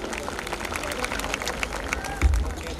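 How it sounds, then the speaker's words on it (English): Crowd applause at a school Founders Day celebration, honoring young class 9 anchors, with dense clapping mixed with murmuring voices and a brief low thump near the end. "Give them a huge round of applause."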